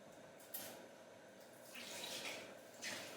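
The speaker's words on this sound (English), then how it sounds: "Just rinse out the sink here with all this pink stuff" A kitchen sink is rinsed with running tap water, a faint, steady hiss and splash that swells in the second half, with no talking.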